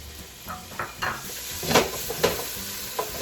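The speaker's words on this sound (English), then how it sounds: "I want to cook the bacon so that the fat renders, but doesn't get crisp before the fat renders" Bacon fries in a pan as its fat renders, crackling and sizzling close by while a utensil scrapes and clinks against the pan in several short strokes.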